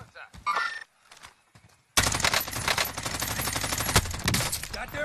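Automatic gunfire in Call of Duty Warzone: after a few seconds of sparse sounds and brief voices, a dense, continuous burst of rapid shots erupts and keeps going loud and close until the end.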